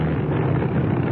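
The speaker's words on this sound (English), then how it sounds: "I don't like the sound of that engine" An engine drones in a 1977 radio drama, a continuous muffled rumble heard alone, steady and moderately quiet throughout the short stretch.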